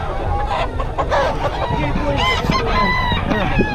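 A rooster crows among other clucking fowl at a busy Bocaue market, the crowing cutting through steady crowd chatter and nearby talking voices.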